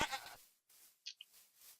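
A goat in the Minecraft video game lets out a couple of short, quiet bleats in quick succession, coming after a brief burst of other game sound and followed by near silence.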